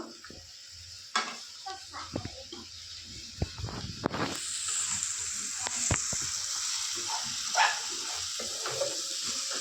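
Egg tomato curry being stirred in a sizzling pan, with scattered scrapes and clinks of the utensil over a steady frying hiss, close up, no talking.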